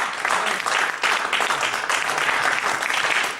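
A church congregation applauding, dense sustained clapping from many hands filling the room without a break.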